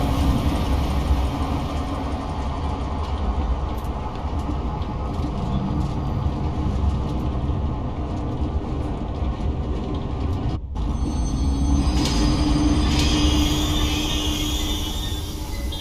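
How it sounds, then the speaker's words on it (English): A train in the Zoochosis game starts up and runs, heard as a steady loud mechanical rumble with rhythmic rail clatter and hum throughout, with a brief metallic clunk partway through. "select the giraffe enclosure on the control panel and start the train"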